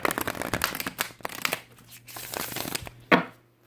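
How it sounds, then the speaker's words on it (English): Tarot cards are riffled and shuffled in several quick bursts, close by, ending with a sharp final flutter. "Do one more shuffle"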